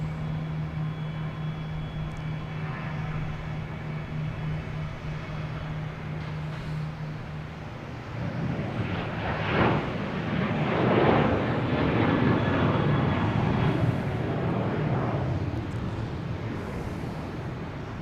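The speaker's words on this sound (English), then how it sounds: "We have WestJet landing and Southwest taking off, heading to Nashville." A Southwest airliner taking off from Boston Logan Airport, bound for Nashville, a distant jet roar that swells steadily after a quieter stretch and stays strong to the end.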